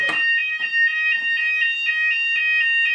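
A Hochiki ESP addressable fire alarm sounder on test pulses a loud, steady electronic tone in quick, even repeats, close and alone with no voices.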